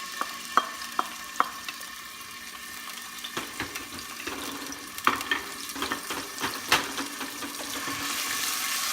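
Garlic sautéing in a little oil in a frying pan while cooking tortang talong, giving a soft sizzle broken by sharp clicks and scrapes of a utensil against the pan, with no voices.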